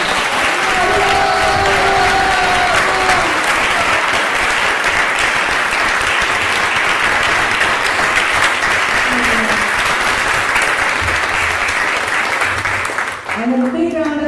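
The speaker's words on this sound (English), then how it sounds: "Please give a big round of applause for her." An audience at a sankirtan orientation seminar breaks into sustained, loud applause, a dense wash of clapping from a large crowd that continues steadily before tapering off near the end.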